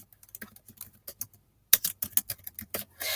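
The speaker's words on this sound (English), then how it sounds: "let me actually go ahead and type my name in" A name is typed on a computer keyboard, with quick, close key clicks in uneven bursts, sparse at first, then a denser, louder run after a brief pause.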